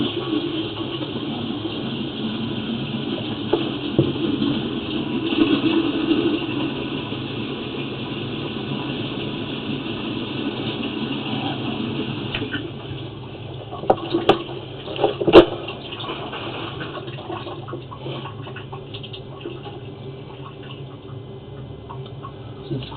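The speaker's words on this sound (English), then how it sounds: "watch what happens when we run water in it" Water runs and gurgles through a drain pipe as it fills and pushes down, a steady close hiss with occasional clunks and drips for over twenty seconds, no talking.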